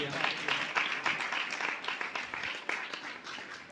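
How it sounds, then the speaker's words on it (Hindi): Congregation clapping in a church during a Father's Day service, a dense steady patter of many hands that stays moderately loud throughout. "हम बाप के लिए जोरदार तालियां बजा देंगे हम।"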